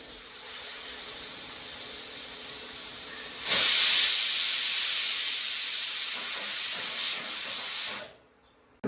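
A pressure cooker holding spicy Donne mutton biryani gravy of onion, tomato, coriander, mint and green chillies vents steam in a loud, continuous high hiss with a whistling edge that swells midway, then cuts off abruptly near the end.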